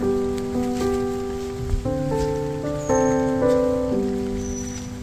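A continuous wash of rainfall on the Mount Manglayang hiking route hisses under a gentle melodic music track for a few seconds.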